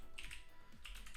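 Computer keyboard typing while coding a programming puzzle solution, a quick burst of several key taps, close and clear with no talk over it.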